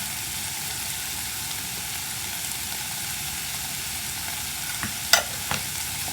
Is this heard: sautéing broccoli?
yes